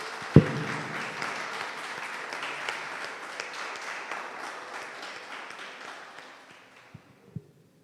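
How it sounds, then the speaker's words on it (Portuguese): A church congregation claps together in praise during a Portuguese-language worship service, a broad sustained round of applause filling the hall that gradually thins and fades out, followed by a couple of isolated knocks. "Vamos dar uma linda salva de palmas para Jesus."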